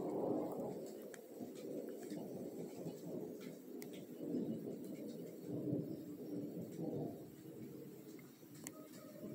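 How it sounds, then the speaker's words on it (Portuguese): Deep, continuous rumbling thunder rolls through a storm, low and sustained with swelling peaks, heard at a distance with no voices. "raios e trovões."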